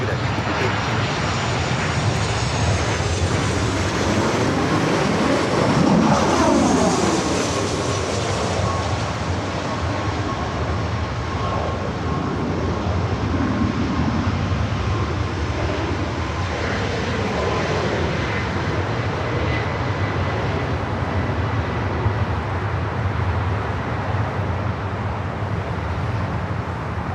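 Jet airliners taking off and landing at LAX airport produce a loud, continuous engine roar with a rising whine that swells and then fades slowly as a plane passes close by.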